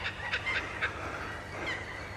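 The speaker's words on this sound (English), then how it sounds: "The kookaburra. This is Australia." Kookaburra calling in Australia, a brief burst of cackling, honking bird notes at moderate distance, faint against steady background noise.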